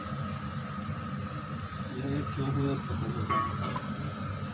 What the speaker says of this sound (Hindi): इसमें मैं एक कटोरा पानी डाल दे रही हूँ